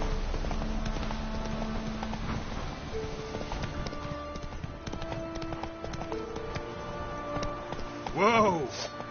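Roach, Geralt's horse in The Witcher 3, gallops with a rapid drumming of hooves under game music and ambience, ending in a brief whinny-like cry near the close.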